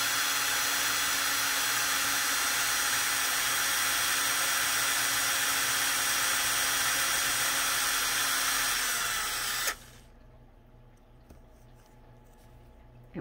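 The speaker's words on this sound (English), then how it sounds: "And it should drill a hole in there just like that." A small drill bores a hole in a 1:12 scale dollhouse wardrobe kit, giving a steady, close, high-pitched whir for about ten seconds before cutting off abruptly into quiet.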